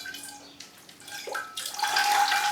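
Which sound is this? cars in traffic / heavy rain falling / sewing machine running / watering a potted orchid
watering a potted orchid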